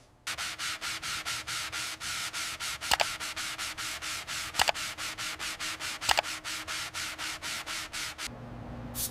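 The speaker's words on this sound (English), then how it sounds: "just need to smooth out this filler over the dents on the fender of this little King Midget" Steady rhythmic back-and-forth sanding of body filler over dents on the fender of a 1969 King Midget baby car, close and even for about eight seconds, with a few sharper scrapes, then a brief change at the end.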